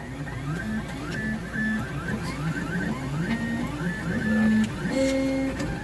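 A filament-cartridge 3D printer runs with a steady whine, its stepper motors stepping through short rising and falling tones in quick, irregular bursts, close and fairly quiet with a constant mechanical hum underneath.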